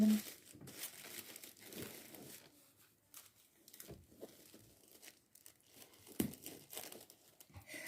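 Thin paper crinkles and crumples in short, quiet, irregular bursts in a small workshop, each rustle sharp and close with soft pauses between.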